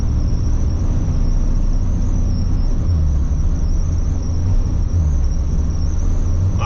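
A square body Chevrolet Suburban cruising at the speed limit in traffic, its engine a low, steady rumble under constant road and tire noise, continuous and close with no talking.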